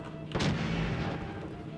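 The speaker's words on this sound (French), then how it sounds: "on peut tirer normalement ou alors tirer comme ça" A single heavy gunshot from the video game Fallout 4 cracks out loudly, then rolls into a long rumbling boom that decays slowly over steady background noise.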